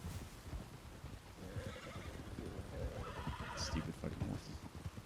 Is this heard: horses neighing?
yes